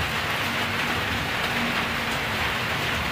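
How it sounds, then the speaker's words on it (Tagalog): Steady rain pouring down, a dense continuous hiss filling the whole stretch with no pauses, close and fairly loud, with a faint low hum running beneath it. "ba't biglang umuulan pa?"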